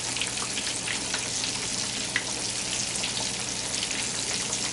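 Chicken pieces fry in hot oil in a cast iron skillet, giving a dense, steady sizzle and crackle throughout. It stays close and loud with no talking.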